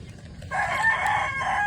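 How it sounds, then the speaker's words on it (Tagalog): A Brahma rooster crows once, close and clear, a drawn-out call over a quiet background. "ito po yung mga manok po nating alaga. Mga Brahma chicken."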